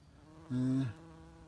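Bees buzz close by around a blue-flowering garden plant with small graceful foliage: one steady, droning hum that swells in for under half a second and then fades away.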